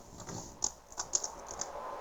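Clicks of a computer keyboard as someone types Python code, a few sharp keystrokes with a quiet gap between them, close by and fairly soft.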